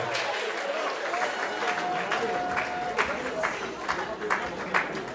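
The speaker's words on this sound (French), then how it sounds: "Sous les applaudissements, accompagnés bien évidemment de leur couple para" Steady applause from a wedding dance party crowd fills the whole stretch, dense and continuous, with a few sharper claps and voices mixed in.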